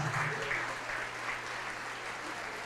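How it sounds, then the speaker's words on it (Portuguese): Steady applause from a congregation during a church service, a continuous wash of clapping at moderate volume that holds evenly from start to finish without breaks or speech. "Vamos aplaudir mais"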